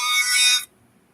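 A phone ringtone chimes loudly for just over half a second as a bright, tonal electronic ring, then cuts off abruptly into near silence.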